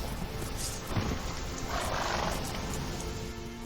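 The horse Roach whinnying in a video game, a drawn-out neigh rising and fading over a few seconds, set against continuous low rumbling background sound with a faint hoof knock near the start.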